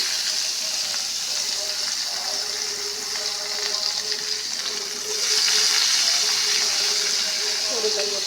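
Chopped onion frying in hot oil left over from frying fish, for a bottle gourd dish: a continuous close sizzle that swells louder partway through, with a voice talking in the background.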